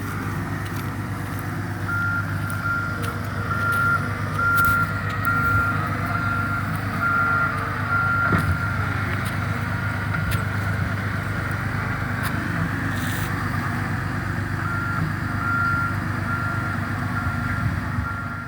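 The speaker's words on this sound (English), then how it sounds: "The heavy equipment working to restore Green River Cove Road to something approaching normal is going to be there for a long time" Heavy equipment at work restoring Green River Cove Road, a steady repeating reversing beep over a low diesel engine drone, with occasional clanks and knocks from the machinery nearby.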